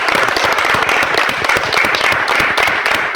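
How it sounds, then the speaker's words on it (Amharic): An audience claps loudly and continuously to celebrate Teacher Dani's TikTok award win, a dense, close burst of applause sustained throughout with a faint voice underneath. "አንዴ ጭብጨባ ያስፈልገናል።"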